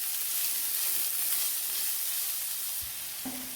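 Chopped medium-size onions sautéing in hot oil over a low flame, a steady close broadband sizzle that runs without a break, with a faint clink near the end.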